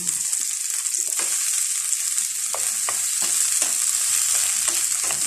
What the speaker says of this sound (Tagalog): Stir fry lang natin guys ang talong.